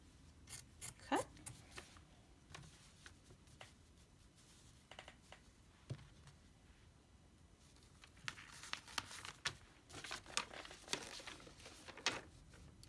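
Scissors cut through a paper piecing template and fabric for a 7-inch log cabin quilt block, giving soft, close snips and crinkles at a low level, with occasional handling rustle.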